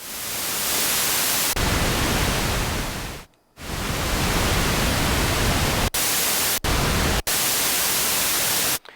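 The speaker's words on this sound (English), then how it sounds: "I'll show you that your noise source works. So we're in white noise." Loud, steady hiss of white noise from a Minimoog synthesizer's noise source, cutting out briefly a few times before resuming at full level.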